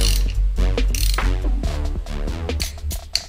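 Ratcheting torque wrench tightening a bike crankcase cover, rapid metallic clicking pawl bursts repeating in quick strokes, close and loud, with a sharp final click near the end.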